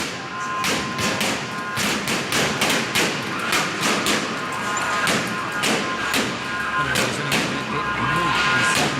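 Chilean Carabineros police fire pellets at street protesters, a rapid series of sharp cracks and thuds repeating irregularly over a loud, noisy outdoor crowd background.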